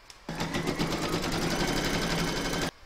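An embroidery sewing machine stitches the placement outline for a large llama appliqué in one continuous rapid burst of needle strikes, close and steady, then stops abruptly.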